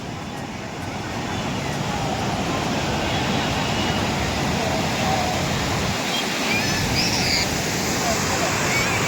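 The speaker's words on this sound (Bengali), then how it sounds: "আর সমুদ্রের গর্জনটা দেখো, শুধু একটু গর্জন।" Sea waves break on the beach at Puri in a loud, continuous broadband roar that rises slightly and stays constant throughout.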